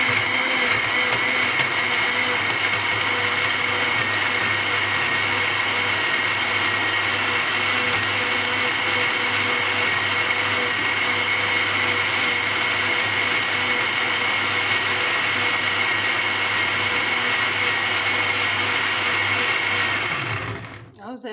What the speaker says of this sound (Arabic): وهضرب المكونات بتاعتي كلها في الخلاط